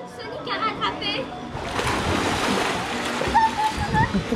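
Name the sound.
children splashing in the water at a posada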